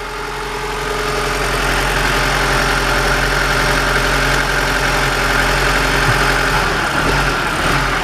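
A Honda Civic engine idles with a steady, loud mechanical drone, the revs hanging slightly raised with only a small dip near the end, heard up close without any voices.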